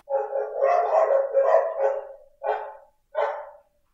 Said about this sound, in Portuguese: Uma cachorrada aí, João.